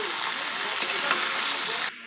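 Vegetables and garlic fry in a pan with a dense, loud sizzle, and a spatula scrapes and knocks a couple of times as they are stirred before the sound cuts off abruptly.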